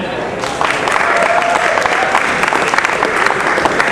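Audience applause from a comedy show crowd, dense steady clapping that starts abruptly after a brief pause and holds loud and continuous to the end.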